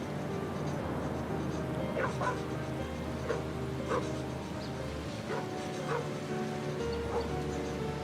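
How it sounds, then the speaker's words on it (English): A dog barks repeatedly, fairly close, in scattered single woofs across a forest, over a constant rain-like hiss and a low hum. "he's interrupted by bark sounds coming from not so far"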